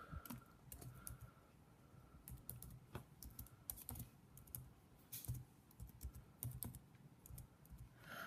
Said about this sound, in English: you're going to type in the title.